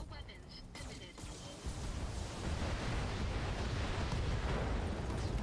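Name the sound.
LRM ammo explosion destroying a mech in a video game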